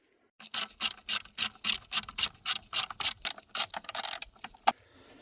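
A ratchet wrench tightening a bolt during reassembly of a Jeep Wrangler 3.6L engine, about fifteen crisp rhythmic clicking strokes up close, speeding into a quick burst before stopping.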